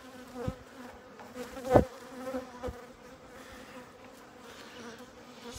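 Bees buzz inside an opened beehive, a soft close hum with a few louder individual passes standing out briefly.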